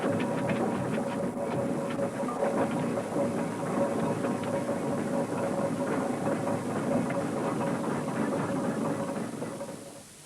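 A train engine drones steadily with a low, rumbling hum and a faint mechanical whine, fading out at the very end.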